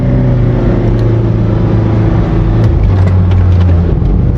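A car engine revs hard while climbing a desert sand dune in Iran, a loud, steady low roar with shifting pitch as the throttle is held on, close and continuous throughout.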